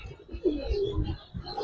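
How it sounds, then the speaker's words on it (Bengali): A Gende pigeon coos close by, one low throaty rolling call that swells and fades over a second or so, heard alone. "দেখেন একটা গেন্দা কবুতর"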